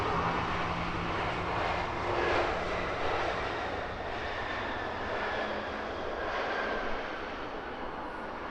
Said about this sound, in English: Oh, I can hear a nice booming engine start up.